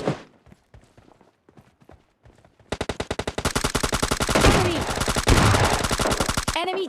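Rapid automatic gunfire from bots in a battle royale shooter, starting with scattered quiet shots and then long, loud, sustained bursts that crackle nearly nonstop to the end.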